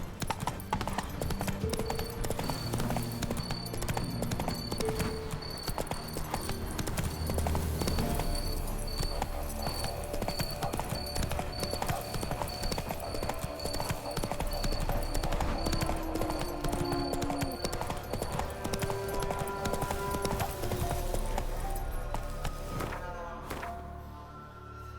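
Roach the horse gallops in The Witcher 3, a steady rapid clip-clop of hooves running continuously across the ground, fairly loud and up close, with a brief snort or whinny and a few thuds, tapering off at the end.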